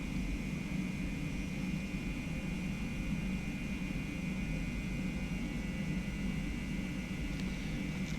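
Boeing 717 jet engines roar steadily during takeoff in a flight simulator, a dense, unbroken broadband rumble with a high whine on top, loud and constant throughout with no voices.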